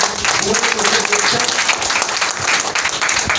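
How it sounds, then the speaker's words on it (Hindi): An audience breaks into loud, vigorous clapping, a short dense burst of many hands close by, with faint voices beneath. "तो एक जोरदार ताली पहले होनी चाहिए उन लोगों के लिए।"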